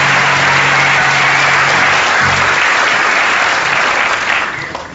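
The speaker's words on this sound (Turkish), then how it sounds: "Büyük bir alkışla karşıladılar seni." A studio audience at a comedy show bursts into loud, sustained applause with a few cheers mixed in, the clapping fading slightly at the very end.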